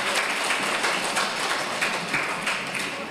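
An audience applauds at a residents' association briefing on a redevelopment contract: steady, crowded clapping that holds at an even level for the whole stretch, with no talking over it.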